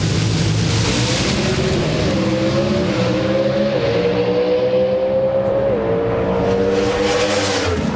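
NHRA drag cars of Jim Yates and V. Gaines launch side by side at the 2005 Thunder Valley Nationals in Bristol, a loud continuous engine roar whose pitch climbs steadily across the run, with no talk.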